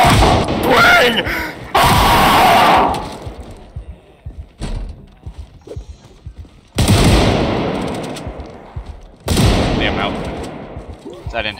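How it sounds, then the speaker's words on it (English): Loud indoor gunfire in Project Zomboid, inside a prison cell block: several sharp, echoing bursts of automatic shots separated by quieter gaps, with people talking excitedly over and between the shots. "the sounds of shooting indoors is so good"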